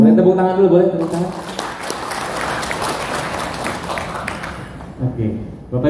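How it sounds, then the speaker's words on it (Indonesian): Audience applause at an Indonesian motivational talk, a steady wash of clapping from a crowd lasting several seconds, with a speaker's voice briefly over the start and returning near the end. "Boleh tepuk tangan."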